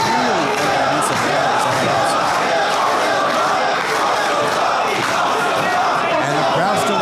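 Wrestling crowd at an AAW independent show chanting and cheering loudly and continuously, a dense rhythmic roar of many voices filling the arena throughout.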